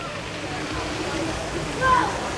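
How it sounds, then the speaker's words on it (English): Continuous splashing and rushing water from a small water wheel in a resort pool area, a steady moderate wash of sound that swells briefly near the end. "that looks like their little water wheel"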